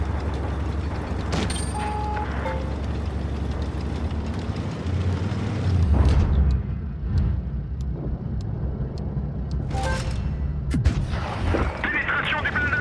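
An ERASER BP44 tank fires its cannon in World of Tanks Blitz, with a few heavy booms over a constant engine drone and battle noise.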